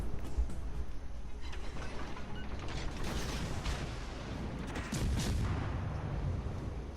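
Naval gunfire from a warship video game, heard as faint, distant booms and crackling bursts over a steady mechanical background, with several louder shots spaced through the clip.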